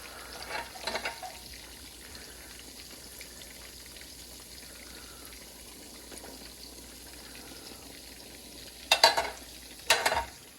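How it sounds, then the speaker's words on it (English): Kubbah sizzles and crackles steadily in a frying pan, a soft continuous fry, with a couple of louder clatters near the end. "Okay, they're frying."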